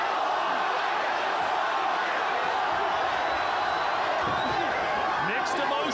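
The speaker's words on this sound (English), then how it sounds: "Mixed emotions from this capacity crowd." A capacity crowd at a boxing arena during a fight between Ryan Garcia and Oscar Duarte produces a steady, dense roar of murmuring and shouting throughout, with a ringside commentator talking over it.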